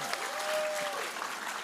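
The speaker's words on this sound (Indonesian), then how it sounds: "Tepuk tangan dulu untuk kita semua." A live audience claps together at a public political Q&A event in Pontianak, with dense, continuous applause filling the whole brief moment.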